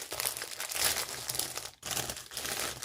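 Packaging crinkled by hand at close range, a dense, crackly rustling that runs on and off in bursts with a short pause partway through.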